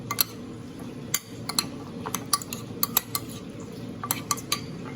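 Salmon taco ingredients with lemon being stirred in a bowl, a run of sharp spoon clinks and scrapes against the bowl repeating irregularly, close and clear, with no talking.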